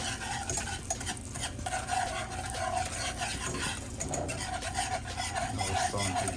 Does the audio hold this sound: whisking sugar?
yes